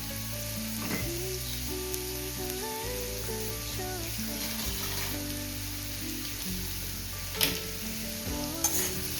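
Onions and dried fish sauté in a pan, giving a steady gentle sizzle with occasional stirring scrapes, quiet and close, under faint background music.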